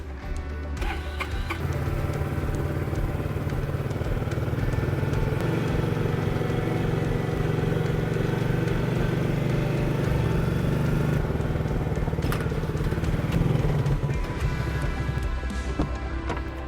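A vehicle pulling away from a bear bait station: a steady, droning engine hum with rattling and rumbling, continuous and moderately loud for the whole stretch, shifting slightly in pitch as it moves.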